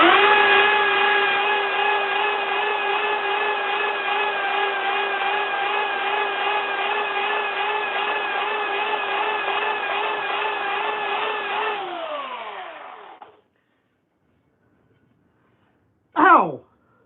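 Belt sander grinding corrosion off a metal elevator plate, a loud steady whining drone with a tonal hum that winds down near the end, followed by silence and one brief burst.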